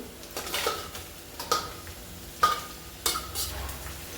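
Onion and tomato sautéing in oil in a pan, with a few distinct scraping clinks of a spoon stirring against the pan over a low background sizzle, close by and without talk.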